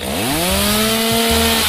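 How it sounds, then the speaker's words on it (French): Power saw cutting through a Snickers chocolate bar, a loud steady motor whine with rising pitch that holds level throughout, close and continuous with no talking. "Une scie va m'aider."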